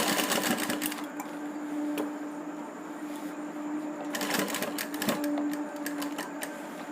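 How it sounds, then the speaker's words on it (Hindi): A sewing machine stitches a folded kurti neck strip in short bursts, its rapid needle clatter loud and close, pausing briefly between runs as the fabric is guided. "मोड़ के ठीक हम इस सिलाई वाले जगह पे लगा देंगे और हम इसे नॉर्मल एक सिलाई लगा लेंगे।"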